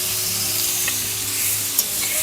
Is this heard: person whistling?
no